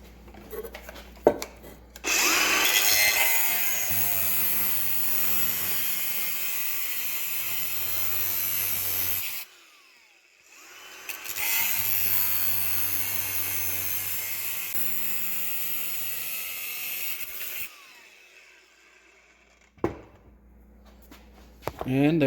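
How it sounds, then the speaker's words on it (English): An angle grinder cuts metal on a Geo Tracker during a lift kit install, shrieking loudly in two long bursts of several seconds each, with a brief pause between them and short handling knocks and a voice around them. "so I can use that for a guide while I'm cutting with the grinder"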